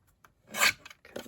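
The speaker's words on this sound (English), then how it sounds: "and then cut that straight." Craft card is cut straight for a gift wallet, a short rasping stroke swelling in the middle, followed by a couple of softer scraping passes.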